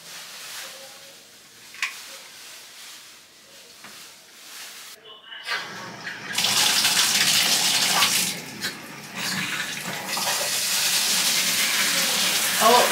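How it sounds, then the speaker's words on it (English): Water runs from a tap in an empty new apartment, first a faint trickle, then a loud, steady rushing flow that fills the second half. "I can see the water running through it"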